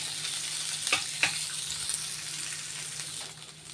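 Thinly sliced onions fry in a pan on low heat for okra fry, giving a steady soft sizzle with a couple of sharp clicks from stirring early on, then a gentle hiss that slowly fades.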